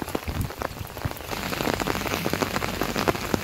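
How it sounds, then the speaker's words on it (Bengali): Heavy rain falling by a rural canal, a dense, steady patter of drops striking surfaces close by, continuous and loud with no voices. "প্রচুর বৃষ্টি হইতেছে, প্রচুর পরিমাণে বৃষ্টি।"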